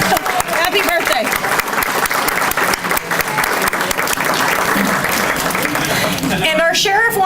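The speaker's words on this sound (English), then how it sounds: "let's give a round of applause for Dan Busher" A crowd claps for a birthday at a pancake and pork political gathering, with sustained, loud, dense applause and voices mixed in.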